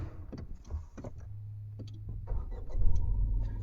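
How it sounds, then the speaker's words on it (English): A car engine cranks and then starts, with a rough rumble that settles into idle close by. No one speaks. "Crank the engine."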